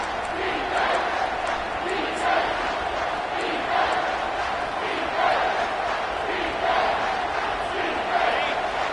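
A stadium crowd at a football game roars in repeated swells, a dense, loud wash of cheering and shouting that rises and falls in waves over about nine seconds.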